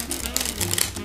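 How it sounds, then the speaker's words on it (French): Playing cards dropped from top to bottom in a card flourish make a quick run of soft, rapid riffling flicks over about a second, close and fairly quiet. "Juste simplement faire tomber les cartes"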